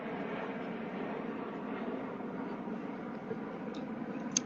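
An airplane passes overhead, a faint, continuous low droning roar that holds steady throughout, with a couple of small clicks near the end.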